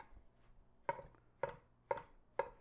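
A whole loaf of bread being chopped up: four evenly spaced, crisp knife chops striking a board, close and fairly quiet, with no talk.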